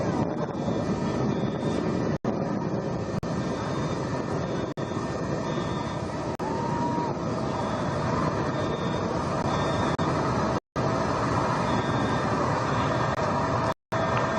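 A Blue Origin rocket engine roars during launch ascent, a dense, continuous broadband rumble that stays steady and loud throughout, broken by a few brief dropouts.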